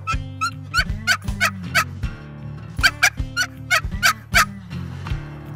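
A box call imitates a hen turkey yelp in a close, loud series of raspy yelping notes in steady cadence, several runs broken by brief pauses, with no talking.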